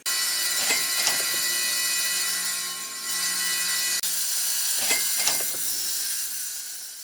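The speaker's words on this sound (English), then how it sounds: "there are many choices of wet tile saws out there" A wet tile saw cuts backsplash tiles with a steady hissing whine, and two distinct grinding passes bite through the tile about four seconds apart.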